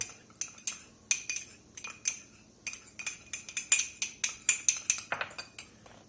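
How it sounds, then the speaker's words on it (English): A metal spoon scoops coriander into a spice rub for a Brazilian-seasoned rib steak, giving a quick run of bright, close clinks and taps against the container, steady and rhythmic with no talking. "We're going to get us a little coriander in."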